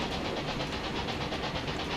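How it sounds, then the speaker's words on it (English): A salt train bound for Albany runs in the Railway Empire 2 game, with a continuous loud rumble and rhythmic rolling clatter of wheels that carries on without a break. "This is the salt train for Albany."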